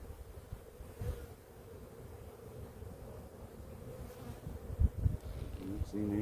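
Honey bees hum around an opened hive during an inspection, a faint, steady buzzing under wind noise, with a few thumps and knocks from handling.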